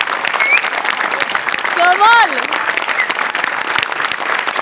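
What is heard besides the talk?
audience applause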